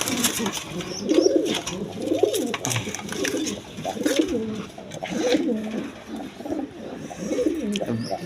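Pigeons in a loft of Sirazi Lahori birds coo continuously in overlapping low, throaty phrases nearby, with occasional faint chirps above.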